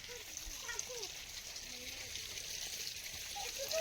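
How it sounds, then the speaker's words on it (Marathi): Water runs steadily onto flowering plants outdoors in the afternoon, a soft continuous rushing and trickling that stays faint and even throughout. "आता पाणी सोडलंय फुलांच्या झाडाला."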